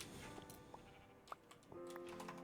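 Sheep in the Minecraft-based game Classic Craft bleat in a few short, faint calls over a low steady hum, with light clicks scattered between them.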